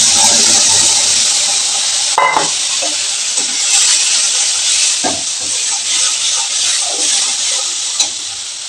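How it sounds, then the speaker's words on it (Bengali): Fish roe fritters frying in hot oil, a loud, bright, continuous hiss and sizzle with occasional clicks and knocks of utensils near the pan, no talking. "মাছের ডিমগুলা এখন বড়া করছি।"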